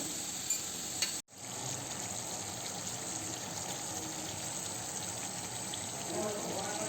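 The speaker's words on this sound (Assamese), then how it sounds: "লৰাই দিছোঁ, ফ্লেমত লৰাই থাকিব লাগিব। কুচিয়াখিনি পূৰা ৰঙচুৱা হোৱালৈকে।" Kuchia eel frying in a pan over a flame while being stirred, a steady dense sizzle that runs throughout with a brief dropout near the start.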